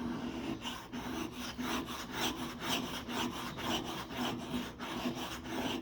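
A whittling knife being sharpened, its edge dragged repeatedly across a stone or strop to pull off the burr, making a steady rhythmic series of close, rasping scrapes with no talk.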